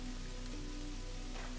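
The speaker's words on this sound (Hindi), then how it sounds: "यहाँ पे बारिश भी हो रही है" Steady rain falls across the Amazon jungle in the survival game Green Hell, a dense, even wash of patter over a low constant hum, continuous and fairly soft with no voices.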